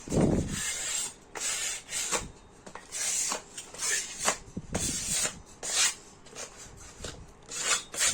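Trowel scraping away excess plaster along a panel edge, repeated rasping strokes in a rough rhythm, close and fairly loud, with no talking.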